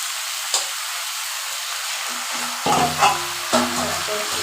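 Leafy greens and flower greens go into a hot pan of frying vegetables with potatoes, a steady sizzle broken by a few louder crackling bursts as they land and are stirred.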